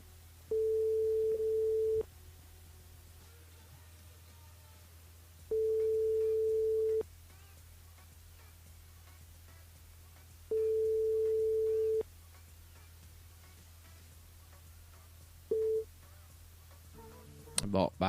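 Ringback tones from an unanswered telephone call on a live radio show: a steady tone pulses in long, evenly spaced bursts with quiet gaps between them, then a short clipped beep before the line cuts off.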